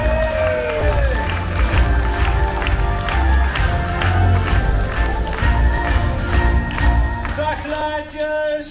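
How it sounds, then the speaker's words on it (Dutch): A large audience at a live family summer show applauds and cheers loudly and continuously, with rhythmic clapping and music running through the whole stretch. "En geef hem een daverend applaus"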